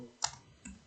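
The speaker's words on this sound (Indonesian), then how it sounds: "Terus kita sini mengetik" Two faint, quick key clicks from typing on a computer keyboard during a terminal session in an operating systems lab, isolated and close.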